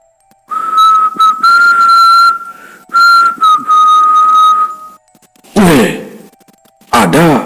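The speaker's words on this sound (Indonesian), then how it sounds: "Ia pun bersiul keras. Sebuah siulan panjang yang memecah kesunyian hutan." A long, loud human whistle held at a steady pitch, broken by short gaps, rings out through a quiet forest by a river, followed by brief rough bursts of sound.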